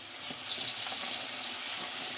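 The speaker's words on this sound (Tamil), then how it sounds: "கிளறி விட்டு அப்படியே புளி தண்ணியை சேர்த்துடலாம்" Tamarind water is poured into a hot pan of puliyodharai paste, making a steady close watery rush with a soft sizzle and no talk.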